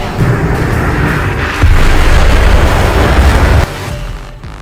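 A heavy boom rumbles in the VTOL VR flight game as an inbound missile detonates, a loud sustained low blast with a second surge midway before cutting off into quieter rumble.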